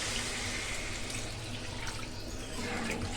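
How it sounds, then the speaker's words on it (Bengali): Water is poured into a pan of spiced egg curry after salting, a steady broadband splashing and running stream that fills the short moment from start to end without any voices. "জল"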